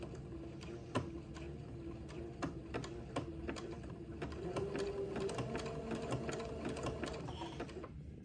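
A sewing machine zigzag-stitches beside entredeau on a wedding ensemble, a quiet, steady mechanical whir with a fast, even ticking needle rhythm throughout, close and alone.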